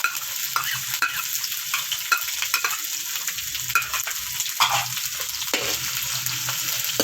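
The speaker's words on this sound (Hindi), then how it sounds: "अब मैं इसमें ये प्याज डालने लगी" Onions sautéing in a hot pan for chicken macaroni, a loud continuous sizzle and crackle with occasional stirring scrapes, no talking.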